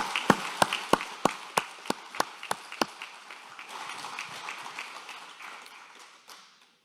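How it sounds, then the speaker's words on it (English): Applause breaks out at a 2021 driver awards ceremony honouring safe drivers, opening with a run of sharp, evenly spaced claps before spreading into a broad crowd ovation that slowly dies away. "How about another round of applause for all those drivers that dedicated themselves to safe driving?"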